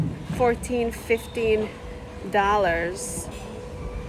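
A tram passes along a street in Avignon, France, as a low, steady rumble beneath nearby voices talking.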